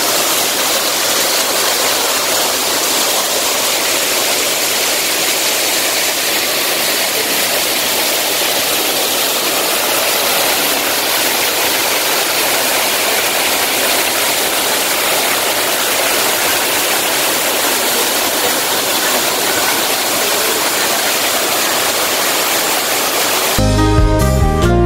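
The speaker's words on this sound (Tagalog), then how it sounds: "ayan, waterfalls" An indoor garden waterfall pours in a steady, loud, continuous rush of falling water with no breaks, filling the space evenly throughout.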